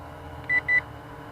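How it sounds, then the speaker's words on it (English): A Syma X8G camera drone gives two short, clear electronic beeps in quick succession, close by, with no talk around them. "Beeps twice."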